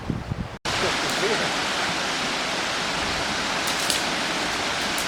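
Waterfall near Donard Lodge, a dense, loud, continuous roar of falling water that sets in after a brief gap and fills the whole stretch, with a few wind-like bursts.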